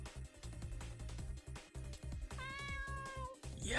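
A cat meows in the video game Noel The Mortal Fate, one drawn-out, clear meow standing out over rhythmic background game music.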